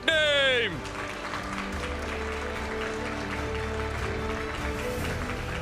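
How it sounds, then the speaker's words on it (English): A crowd applauds a third-place finalist at a Pokémon regional championship in Dortmund, steady clapping filling the hall after a loud electronic sting at the start, with a voice speaking over it. "give a round of applause for your 3rd place finalist, Nickname!"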